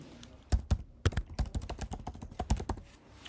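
Keyboard keys clatter in quick bursts as copy and paste shortcuts are typed on a computer, a string of sharp, close clicks with brief pauses and no talking.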